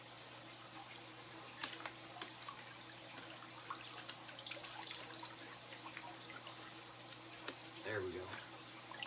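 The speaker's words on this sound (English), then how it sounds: "I'm going to fill up this little canister here with water first." Water trickling and dripping as a small filter canister is filled from a tap while setting up a large Reeves turtle enclosure, a steady faint flow under a persistent low hum, with a short gurgle near the end.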